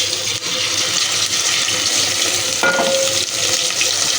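Onion, garlic and ginger paste frying in hot oil sends up a loud, dense, steady hiss, with a brief clink of a utensil partway through and no talking.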